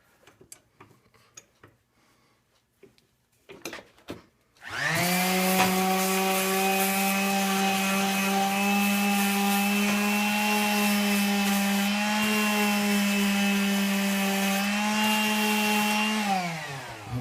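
Orbital sander with 180 grit paper starting up on a gun stock being stripped after a few faint handling clicks, then a loud steady buzzing whine running continuously until it winds down at the end.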